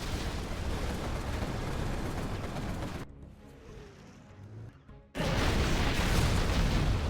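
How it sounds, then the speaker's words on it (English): Artillery fire in a real-time strategy video game, a dense rumbling barrage of booms and blasts that drops away briefly mid-clip before bursting back in loud and continuous. "Nice artillery"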